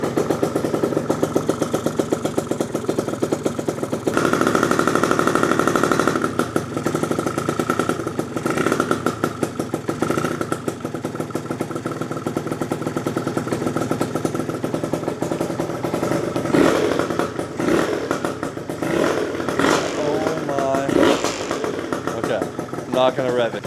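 A Gilera Runner 172cc scooter engine idles steadily on its first start after a rebuild, with a continuous mid-pitched running drone and some clatter, while people talk over it.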